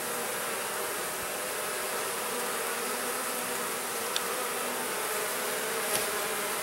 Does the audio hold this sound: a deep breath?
no